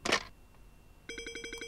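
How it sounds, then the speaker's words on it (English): Telephone ringing in a horror video game: a brief noisy burst and a quiet gap, then a near, trilling electronic ring starts with rapid pulsing repeats. "Even your phone sounds creepy."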